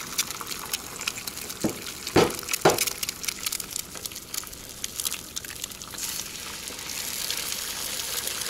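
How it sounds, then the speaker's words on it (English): Eggs fry in leftover bacon grease in a pan at an early spring campsite, a soft, close crackling sizzle with a few sharp taps and pops early on, then a steadier hiss. "Bacon grease in the pan still, not gonna hurt anything"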